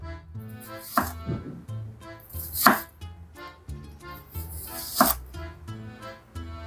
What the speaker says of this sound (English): Nice fine dice of the onion.